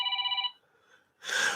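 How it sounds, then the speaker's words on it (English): A telephone bell rings in a fast trilling burst that then stops, followed by a short silence and a loud breathy exhale. "the phone don't stop ringing, man"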